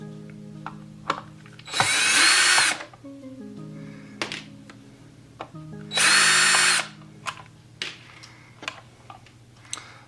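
A power drill backs screws out of a turntable in two loud whirring bursts of about a second each, separated by small clicks and taps from handling the parts, with no talking.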